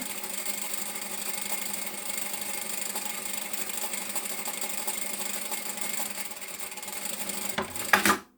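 A sewing machine runs a steady, fast stitch along the top edge of a shoulder bag's lining, a continuous close whirring buzz that stops abruptly near the end with a brief clunk.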